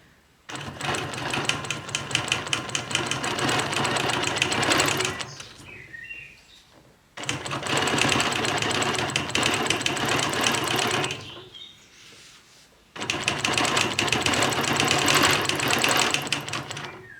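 A sewing machine quilting a traced shape along a Petunia ruler runs in three long, steady bursts of fast stitching, separated by short pauses, close and loud.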